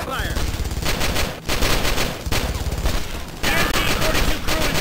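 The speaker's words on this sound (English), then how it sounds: "Silence that damn MG-42!" MG-42 machine gun fire in the Brothers In Arms DS Nintendo DS game, continuous dense rapid bursts with brief pauses between, loud and close, layered with other battle noise.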